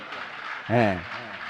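An audience claps during a Jain monk's religious discourse. The steady patter of many hands carries on throughout, and a voice rises briefly over it in the middle.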